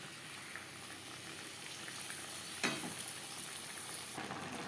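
Mixed vegetables stir-fried with tempering spices in a pan over a gas flame give a steady, fairly quiet sizzle, with a brief louder stir or scrape near the middle and no voices.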